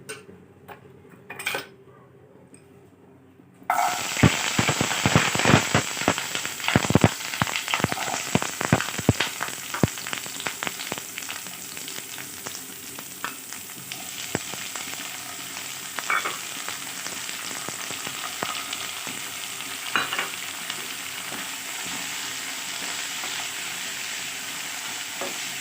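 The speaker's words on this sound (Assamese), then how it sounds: "পহিলাতে মই এইখিনি ভাজি লওঁ" Ginger and garlic, with coconut nearby, frying in a pan for an Assamese coconut fish curry: after a brief quiet start, a loud steady sizzle with clinks of a spoon stirring against the pan, no talking.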